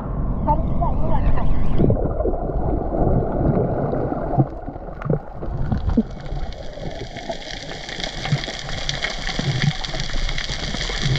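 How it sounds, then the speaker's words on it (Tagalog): Boats moving along a waterway, with steady engine and water noise under loud wind buffeting on the microphone, while people talk nearby. "Dinadaan-daan kami dito ng mga bangka"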